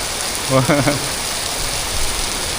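Heavy rain pours down in Siam Square, Bangkok, a steady dense hiss of drops on the pavement that fills the scene throughout, with a brief voice rising over it near the start.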